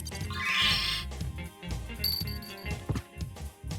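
A cow summoned by the Shield Rod in Castlevania: Symphony of the Night gives a loud, wavering bleat-like moo, followed by a run of short, choppy game sound effects and chimes.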